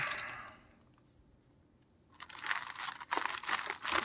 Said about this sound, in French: Hop, on dégage l'emballage.